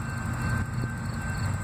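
A freight train rolls past steadily, a continuous low rumble with a faint high whine on top and no distinct wheel clicks over a short stretch.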